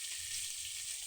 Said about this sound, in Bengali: মাছ ভাজতেছি, মাথা ভাজতেছি,